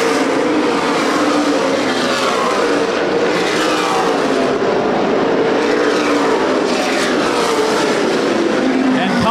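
CRA Super Series race cars circling the high-banked Winchester Speedway, a continuous loud roar of engines sweeping past, heard under a race announcer's commentary.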